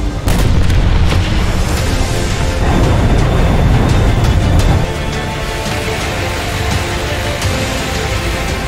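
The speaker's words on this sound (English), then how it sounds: "this truck on fire ends up blowing up 2 others with it when getting too close to them" A burning truck blows up in the War Thunder video game, setting off two more trucks nearby. It comes as a loud, dense burst of booming explosions, followed by a lower rumble that keeps going.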